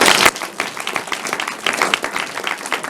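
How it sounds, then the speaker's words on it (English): Audience at a Women In Finance annual event in Paris claps in a dense, steady burst of applause for absent students, a sharp loud hit at the start followed by continuous mid-level clapping throughout. "they deserve an applause and accent"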